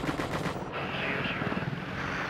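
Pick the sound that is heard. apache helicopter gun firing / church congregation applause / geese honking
apache helicopter gun firing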